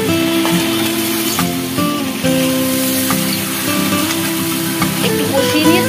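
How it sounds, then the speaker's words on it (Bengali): Potatoes fry in a spice paste cooked down in oil, a loud, steady sizzle with scraping stir strokes, near and continuous, with a melodic tone faintly underneath. "আলুগুলো দিয়ে একটুখানি কষিয়ে"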